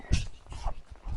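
A dog dressed up for the snow whimpers and whines close by, short soft yelping cries repeating over about a second.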